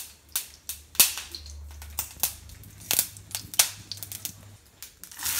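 Sharp, irregular pops and crackles of mustard seeds bursting in hot oil, close up, with a faint low hum underneath.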